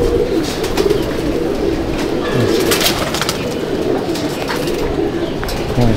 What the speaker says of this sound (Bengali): আমি একটা আন্ধ্রা লাইনের ফুলসিরা ব্রিড দেখাচ্ছি আপনাকে